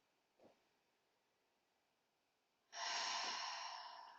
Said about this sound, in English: Take a couple of breaths right here.